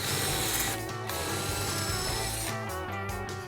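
A power drill whirs steadily while removing small metal wheels from a vintage easel and Z bed, with brief pauses in the motor's droning buzz.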